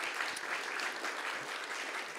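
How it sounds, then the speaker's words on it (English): A conference audience claps steadily, a dense wash of applause without pauses, moderately loud and even throughout. "can I have a round of applause for them"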